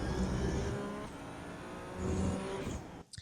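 A Ferrari 296 Challenge race car in the iRacing simulator at Phillip Island, its engine droning steadily and swelling as it picks up throttle out of a corner, then cutting off abruptly near the end.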